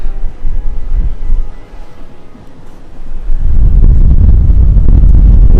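Wind gusts across the open deck of Royal Caribbean's cruise ship Oasis of the Seas, a loud low roar buffeting the microphone that swells into a heavier, continuous rumble partway through.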